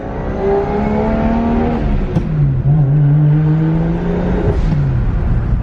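A Nissan Skyline sedan engine revs and shifts through gears up close, pitch rising and falling continuously with brief drops between gears.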